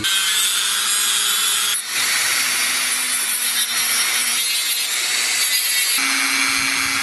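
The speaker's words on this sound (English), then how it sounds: "Keep your rotary tool on its lowest setting." A rotary tool running on its lowest setting while shaping a vampire fang, giving a continuous close, loud whirring grind that shifts pitch slightly as pressure changes, with one brief dip partway through and no talking.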